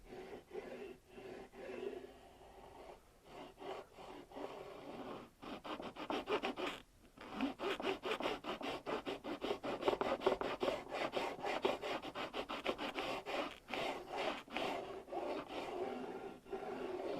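A metal file rasps back and forth against the sharp fret ends of a guitar neck in quick, steady strokes, gritty and close, growing busier and louder partway through.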